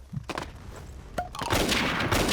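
A few sharp shots ring out in the video game Avatar Star, followed by a burst of dense noisy crackle, close and fairly loud, with no clear speech.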